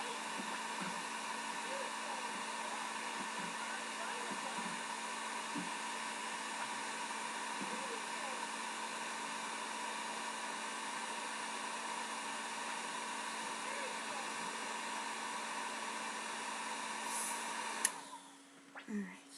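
A heat tool blows hot air steadily and close up, shrinking plastic bottle beads; the even whooshing roar runs almost throughout, then cuts off near the end with a brief clatter.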